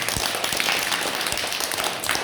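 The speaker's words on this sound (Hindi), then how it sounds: "दिव्यांश के लिए तालियां बजाओ" Children in a classroom clap together for a classmate, a steady burst of applause of many small hands that fills the whole moment without pause.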